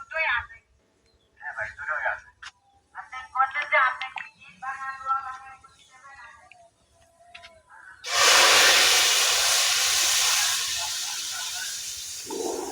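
Lentils (masoor dal) dropped into hot oil, bursting into a loud, sustained sizzle after a stretch of speech in Bengali, then holding steady as a bright hiss.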